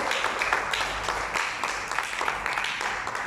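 A church congregation applauds God during a Spanish-language sermon, with sustained, dense clapping from many hands that stays steady and fairly loud for a few seconds.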